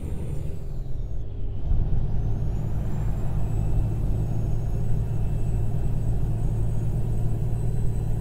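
A straight-piped ISX engine on a Peterbilt 579 truck in American Truck Simulator: a deep, loud, steady rumbling drone that holds constant. A brief airy hiss comes early on, and faint tonal whines sit above the exhaust.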